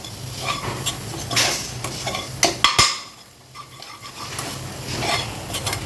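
Chilli powder masala sautéing in a hot pan, with a steady close sizzle broken by scraping stirs and a few sharp clinks of the spoon against the metal, no talking.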